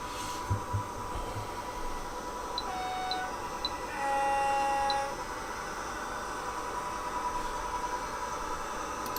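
A Blue Pullman model train runs on a layout, making a steady, faint mechanical hum and rumble that stays constant at close range, with a few brief high chirps and a slight swell partway through.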